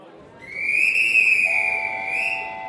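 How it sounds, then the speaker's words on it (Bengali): A railway guard's whistle shrills for about two seconds, a loud sustained blast with a wavering pitch, joined near the end by a second steady tone as the train is about to start moving. "গার্ড হুইসেল বাজালো, ট্রেনের চাকা গড়াতে শুরু করল।"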